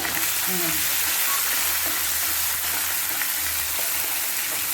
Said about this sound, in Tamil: இப்போ வெங்காயத்தை போட்டுக்கணும்.